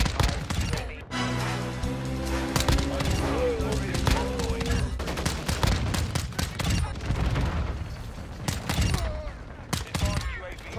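Rapid bursts of automatic gunfire from a gun in Call of Duty MW2, dense and loud with short pauses between volleys, layered over game music and effects while a person talks.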